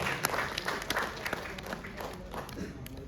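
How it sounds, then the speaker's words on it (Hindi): An audience at an Urdu Academy award ceremony breaks into applause, a dense burst of many hands clapping with some sharper individual claps standing out. "तालियां बजा दो भाई"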